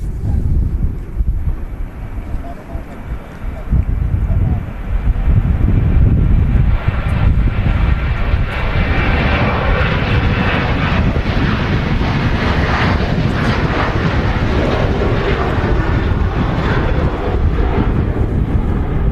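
A Ryanair Boeing 737 takes off from Manchester Airport for Faro, a loud broad jet roar building after a few seconds and holding steady, rumbling and wind-buffeted, with no talk.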